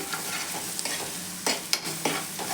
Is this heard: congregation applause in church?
no